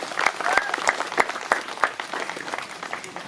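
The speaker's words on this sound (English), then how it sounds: "Pause for applause, pause for applause." Clapping from an audience at a laurel ceremony before royalty, a moderate round of distinct hand claps with a loose, uneven rhythm, some claps standing out sharply near the listener.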